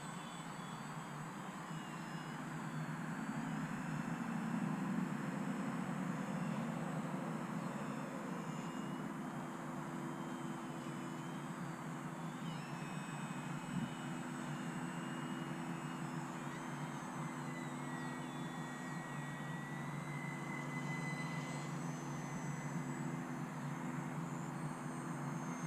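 A small E-flite UMX Turbo Timber Evolution RC plane flies continuously overhead, its electric motor giving a steady high-pitched whine that rises and falls as it passes, over constant outdoor wind noise, with no talking.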